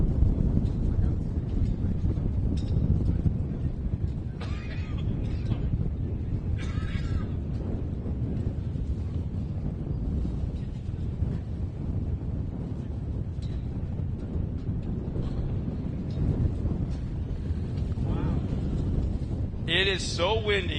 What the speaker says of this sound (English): It is so windy that the spray from the water truck is getting up here in the tower.